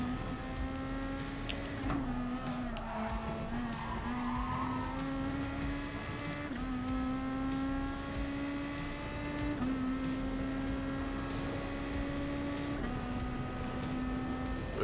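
A drifting car in the GT Sport racing game holds a steady engine drone for several seconds, with shifting pitch at intervals and a constant layer of tire squeal and skid noise throughout, no voices.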